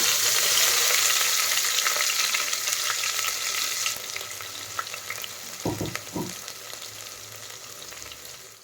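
Crushed ginger and garlic fry in hot oil for a soya chunk biryani, with a loud close sizzle that gradually softens and a few sharp stirring knocks partway through.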